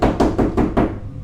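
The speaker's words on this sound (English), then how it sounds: "there was a knock at the door that nearly made me jump out of my skin." Four heavy knocks on a door in a quick, even rhythm, loud and close, each one ringing out briefly before the next. The last knock fades into silence.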